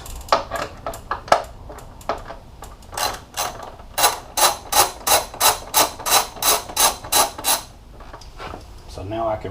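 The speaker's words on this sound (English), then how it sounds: "I'm going to use my 5mm to take out these bolts to remove the painted fender" A 5mm hex tool backing bolts out of a painted motorcycle front fender, giving a run of quick, regular metallic ratcheting clicks close by, with a few scattered clicks before and after.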